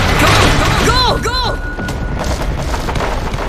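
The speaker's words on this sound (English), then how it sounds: "I can hear some gunshot." Gunfire in the zombie shooter World War Z Aftermath, a loud dense burst of booming shots and thuds up close at the start, then continuing rumbling game noise.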